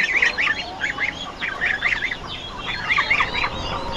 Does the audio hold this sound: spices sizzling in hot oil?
no